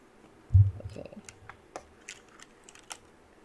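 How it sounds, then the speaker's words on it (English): Keys typed on a desktop computer keyboard plugged into a machine: one heavier thump, then a sparse run of light, separate clicks spaced a few tenths of a second apart, close by and fairly quiet. "so I plugged in a keyboard. I thought that it's a desktop keyboard."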